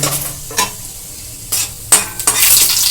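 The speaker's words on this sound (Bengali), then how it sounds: "রসুনের লঙ্কাটা আমার ভাজা হয়ে গেছে" Garlic and chili frying in a pan for aloo chop, a steady close sizzle broken by several sharp scraping stirs of a spatula, with no voices.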